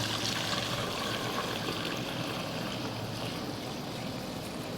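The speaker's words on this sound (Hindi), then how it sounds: "तो अब इस दूध को, अपने दूध को हम छान लेते हैं" Homemade fake milk strained and poured, giving a steady, close trickling and splashing stream of liquid that runs without a break and with no talk.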